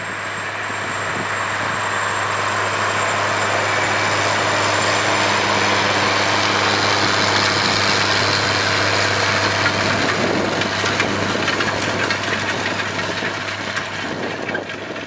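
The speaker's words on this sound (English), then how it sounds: "This John Deere 9100 four-wheel drive tractor is pulling a 27-foot wide Salford 570 RTS Independent Series Vertical Tillage Tool." A John Deere 9100 four-wheel drive tractor pulling a 27-foot Salford 570 RTS vertical tillage tool drones with a steady, loud diesel engine hum and mechanical rattle, continuous and unbroken throughout.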